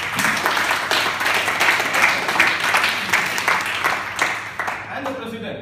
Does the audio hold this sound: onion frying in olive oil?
no